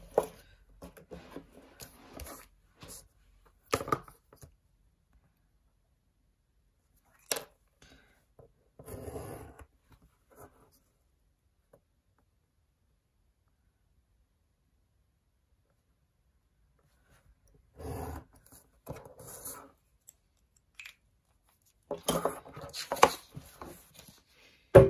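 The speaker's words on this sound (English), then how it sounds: "I am going to get my craft knife out because it'll just be quicker for you" A craft knife cutting stickers: quiet, close, scratchy slicing strokes in short irregular clusters, separated by long silent pauses.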